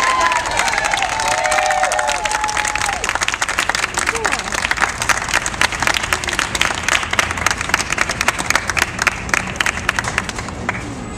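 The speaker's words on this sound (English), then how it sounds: "Clap it up, guys." An audience at a Denim Day proclamation event in New York City claps and cheers, steady dense applause with whoops and shouted voices, loud and close throughout.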